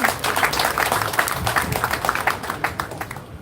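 Audience applause at a political party event in Adjumani, steady dense clapping from a crowd lasting a few seconds, moderately close and fairly even throughout.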